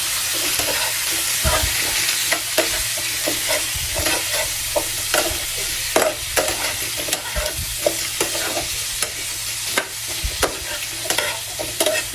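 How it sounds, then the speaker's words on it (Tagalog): Pieces of squash (kalabasa) are stir-fried in a pan for pinakbet: a loud, continuous sizzle with repeated scraping and clacking of the spatula at an irregular rhythm. No one speaks. "ilalagay na natin itong kalabasa"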